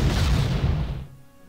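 A loud artillery shot booms from Panzer Corps, a wartime strategy game, its heavy blast filling the first second before trailing off into a fading rumble.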